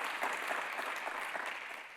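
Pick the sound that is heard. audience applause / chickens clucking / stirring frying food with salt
audience applause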